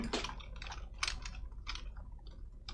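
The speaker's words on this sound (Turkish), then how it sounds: "Bunun da sebebi klavye sesim." Rapid typing on a gaming keyboard, clicky keystrokes in quick irregular bursts, close and fairly loud, with no voices.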